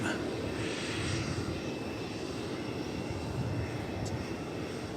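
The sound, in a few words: aircraft at DFW Airport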